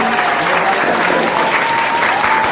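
Loud, dense applause from a crowd at a ribbon-cutting ceremony welcoming a chief guest, with steady clapping that fills the whole moment at close range.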